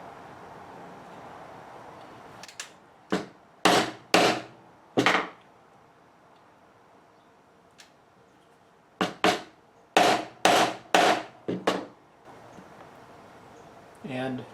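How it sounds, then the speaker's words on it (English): Holes are punched through hide for a 26-inch powwow drum, heard as two separate bursts of sharp, loud knocking strikes, each burst holding several quick blows separated by a quiet pause. "And punch a second hole."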